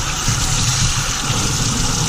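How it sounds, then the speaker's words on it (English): A hose stream rinses a reusable air filter, a steady close hiss and splash of water with no pauses and no voices. "then just keep rinsing until you feel that it's thoroughly clean and you can't feel any of the cleaner on it"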